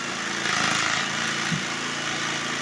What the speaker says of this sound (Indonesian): Nah, seperti ini saya menggunakan mesin jigsaw.